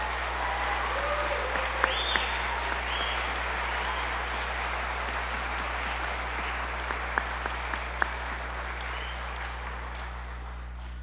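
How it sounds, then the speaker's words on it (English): An audience at a school spring choral concert gives a choir a long, steady round of applause, a dense, even wash of clapping with a few sharper claps standing out, and no speech. "Please give them a round of applause."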